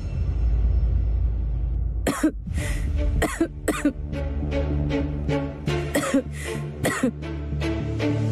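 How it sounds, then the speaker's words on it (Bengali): A woman coughs in a domestic TV drama scene, a sequence of about seven sharp, loud coughs spaced irregularly after a low rumbling background, close to the listener. "আমার কাশি হচ্ছে"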